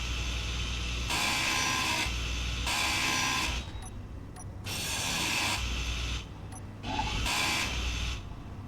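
Grinder cutting through vehicle parts while a jack-raised wheeled armoured car is being rebuilt in Space Engineers: three long bursts of harsh, steady grinding noise, each about a second or more, separated by brief quieter gaps with small mechanical clicks, near and loud.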